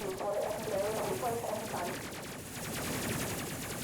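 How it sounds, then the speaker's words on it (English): Ship weapons firing in the space game Space Crew, a steady stream of rapid shots with game audio, loud and continuous throughout, under speech. "Who are they shooting at?"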